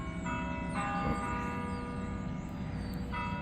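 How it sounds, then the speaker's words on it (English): Church bells from down the street ring out with a sustained, steady tone, layered over constant outdoor ambience throughout. "The church bell down the way here."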